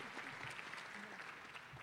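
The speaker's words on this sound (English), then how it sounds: "Let's give them a round of applause for being here today." At a luncheon, the audience applauds students with a steady wash of distant, faint clapping and a murmur of voices.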